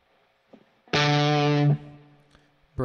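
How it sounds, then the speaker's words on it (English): Classic distortion model on a Line 6 Pod HD500 driving an electric guitar, a single loud sustained chord ringing close for under a second before cutting off, with faint string noise around it. "now let's hear the classic distortion."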